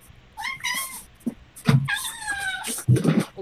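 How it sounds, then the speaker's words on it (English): A cat meows several times in close succession, clear rising and falling cries with a louder, strained caterwaul-like call near the end, close to the listener in a quiet room. "Yes, I've got cats."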